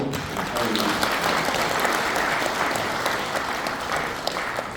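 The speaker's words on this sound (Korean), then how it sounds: "여러분 큰 박수로" An audience at a Korean hometown association lecture gathering applauds: steady, full clapping from a room of people, holding level for nearly five seconds before easing slightly.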